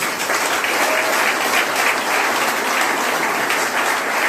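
A church congregation claps together in praise, a dense, continuous wash of applause held at steady loudness throughout, with no one speaking over it.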